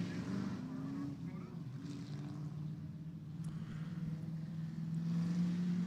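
An orange Chevrolet Camaro drift car works its engine at a distance during a drifting event on the Plains, the note rising and falling across a faint, far-off roar with crowd murmur underneath.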